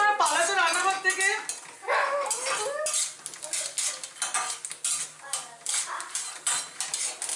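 Curry leaves sizzle in hot oil in a pan while a metal spoon stirs and scrapes against it, giving rapid clinks and rattles over a soft frying hiss.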